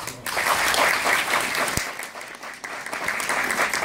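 An audience claps continuously in a dense burst of applause at the opening of a festival of stage miniatures in Leskovac, close and full for the entire clip.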